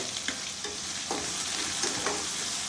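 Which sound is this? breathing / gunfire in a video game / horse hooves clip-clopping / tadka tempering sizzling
tadka tempering sizzling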